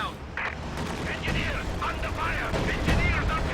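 Anti-tank strafing run on M1 units in a World War II strategy video game, a series of rapid gunfire bursts and booms under a continuous commentator's voice.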